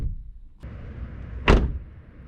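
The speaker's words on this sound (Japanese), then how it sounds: "ドアを閉めた音は" Door of a 2022 Toyota Aqua shutting once with a single solid thud, near and fairly loud against a quiet interior background, no talking.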